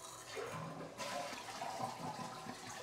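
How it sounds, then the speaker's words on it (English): A household toilet flushes to drain its tank, a loud rushing gush of water that swells after the first second and keeps swirling steadily to the end, close and without talk. "Next, go ahead and flush the toilet to get the water out of the tank."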